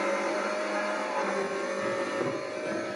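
A race car's engine drones loud and steady as it exits Druids, a fast corner, holding a continuous roar with no clear gear changes.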